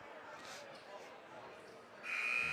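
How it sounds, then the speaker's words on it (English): A gym buzzer blares loudly and steadily near the end of a high school boys' varsity basketball game, cutting in over a murmuring crowd and faint talk. "Buzzer sounds."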